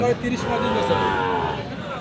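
A cow moos at a busy cattle market where animals are traded for the Eid sacrifice, the low call stretching for about two seconds close by over crowd chatter.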